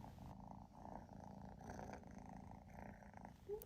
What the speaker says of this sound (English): Our cat Augustus has the loudest purr I've ever heard